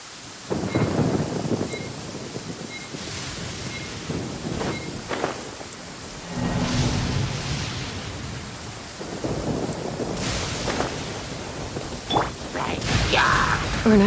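In Genshin Impact, steady rain pours while thunder rolls in several heavy, drawn-out rumbles that swell and fade over the constant downpour.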